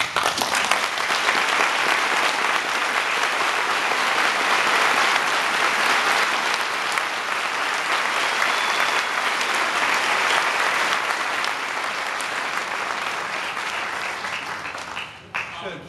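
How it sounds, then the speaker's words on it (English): A packed school board meeting audience breaks into sustained applause, a dense, even wash of clapping that holds for many seconds before tapering off near the end. "Thank you for the applause."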